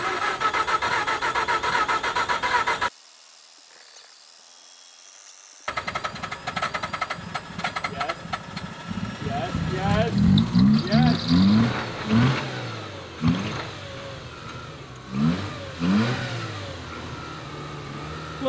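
A rebuilt Mazda RX-8 rotary engine cranks, catches and revs on its first run, loud and rough with uneven throttle blips rising and falling, while people talk nearby.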